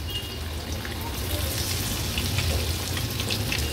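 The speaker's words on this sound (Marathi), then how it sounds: "आलं लसूण क्रश थोडंसं तेलावर परतून घ्यायचंय" Ginger-garlic crush sizzles in hot oil in a pan, a steady, close, hissing crackle that holds evenly throughout with no pauses.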